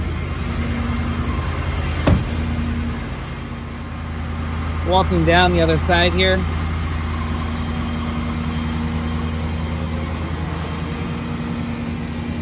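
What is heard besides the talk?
truck engine idling, running a mobile generator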